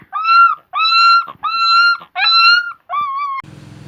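Puppies let out five high, drawn-out whimpering cries in a row, loud and close, each lasting about half a second with brief gaps, ending in a short low rustle.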